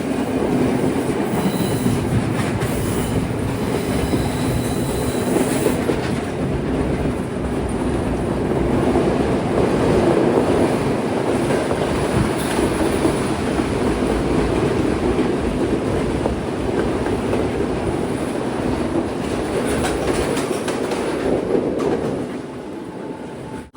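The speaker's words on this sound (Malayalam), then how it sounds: "നല്ല ചാട്ടമുണ്ട് ട്രെയിൻ." Second-class coastal train running from Galle to Colombo along Sri Lanka's coastal line: a loud, continuous rumble with rhythmic clickety-clack of wheels and faint squeals, heard from inside the carriage for the whole stretch before easing at the end.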